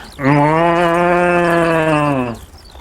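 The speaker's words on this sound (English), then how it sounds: "followed by a chorus of moos in response. Does it sound like a herd of cows?" A single long, loud bovine moo with rich harmonics, steady for about two seconds before trailing off, heard close and alone.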